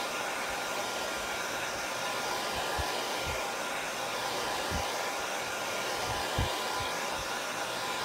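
A hair dryer blows continuously on a painted wooden box birdhouse craft project, a steady close whooshing roar held for several seconds with faint knocks and handling underneath.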